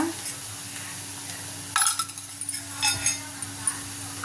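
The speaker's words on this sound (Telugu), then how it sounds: "ఉల్లిపాయలు ఫ్రై చేసుకున్నా ఇప్పుడు ఇందులో ఒక హాఫ్ స్పూను పసుపు వేసుకున్నా" Onions with curry leaves and turmeric fry in a pan, a soft sizzle under a couple of brief stirring scrapes and light metallic clinks, close and fairly quiet.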